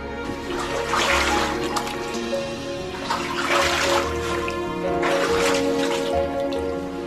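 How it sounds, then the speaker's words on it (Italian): Someone wading through icy, knee-deep water in a flooded tunnel of a lignite mine, a continuous loud sloshing and splashing that surges in rhythmic waves with each stride, close and echoing. "attraversando un piccolo tratto di galleria allagato, acqua fredda gelida"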